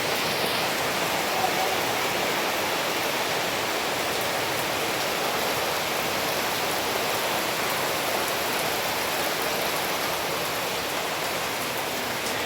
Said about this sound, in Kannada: ಜೋರು ಮಳೆ ಆಯಿತು ನೋಡಿ, ಜೋರು ಮಳೆ ಬರ್ತುಂಟು